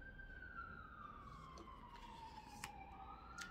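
A faint, distant siren wailing in a slow falling sweep over a low background rumble.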